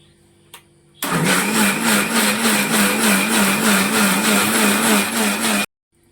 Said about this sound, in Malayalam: ഇനി നമുക്കിത് മിക്സിയിലൊന്ന് അടിച്ചെടുക്കാം